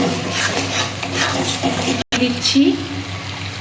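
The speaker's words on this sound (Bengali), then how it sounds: "পরিমাণ মতো একটু জল দিয়ে দিলাম।" Water is poured into a pan of frying spices with salt and sugar for a ridge gourd fritter curry, making a short splashing, sizzling gush. Someone speaks briefly over it.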